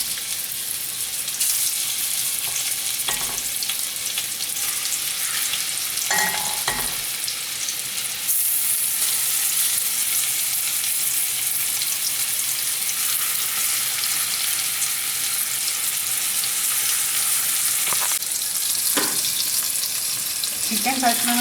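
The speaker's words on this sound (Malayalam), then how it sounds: "ബട്ടർ ഒലിവ് ഓയിൽ ചൂടായി നമുക്കിതിലേക്ക് ഈ ചിക്കൻ കഷ്ണങ്ങളിട്ടൊന്ന് ചെറുതായി ഫ്രൈ ചെയ്ത് എടുക്കാം" Chicken pieces fry in a pan of hot butter and olive oil for chicken stroganoff, making a loud, continuous sizzle that crackles steadily throughout, with a few brief clunks of the pan and no talking.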